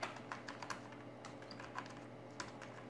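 Light clicks of typing on a computer keyboard while entering text into an Excel spreadsheet, a steady run of quiet close keystrokes with a few sharper taps, alone without speech.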